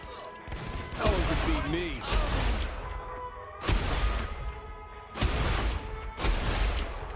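Sniper rifle gunfire in the video game Saints Row: The Third, with several loud booming shots spaced through the stretch, each followed by a rolling decay, over continuous game background noise.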